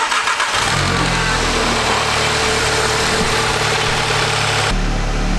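An Audi S3 engine idles after a misfire repair, a steady low rumble with a slightly uneven pulse, loud and close, running alone with no talk.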